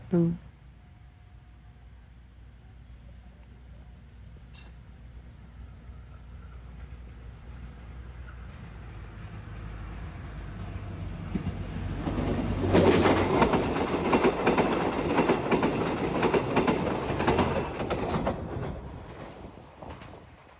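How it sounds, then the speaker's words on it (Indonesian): An airport train approaches from a distance, growing louder into a rattling, clattering pass along track 1 at a station before fading slightly; faint voices in the background. "Ada kereta Bias di jalur 1."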